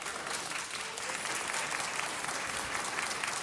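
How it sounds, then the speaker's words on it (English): Applause after a speaker at a city council meeting, a thick, even burst of many people clapping in the chamber, sustained and fairly loud throughout. "applause is fine after the speakers"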